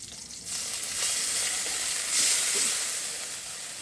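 Soy sauce poured into a hot pan for soya chilli: a loud, close hiss swells into a steady sizzle after a brief quieter start, then holds with slight surges.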